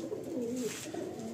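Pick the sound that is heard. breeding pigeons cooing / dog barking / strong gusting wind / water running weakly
breeding pigeons cooing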